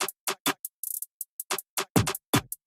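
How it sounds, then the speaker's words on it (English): Basic drum pattern programmed in Serato Studio, with sharp, dry, close hits in a brisk uneven rhythm and short silences between them. "Then I went into Serato Studio and added a basic drum pattern that sounds like this."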